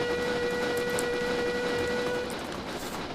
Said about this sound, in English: Oh, whistle.